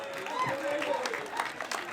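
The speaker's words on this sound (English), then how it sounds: "Give them another round of applause." Brief burst of crowd applause mixed with cheering voices at an eating contest, fairly loud and continuous for a couple of seconds.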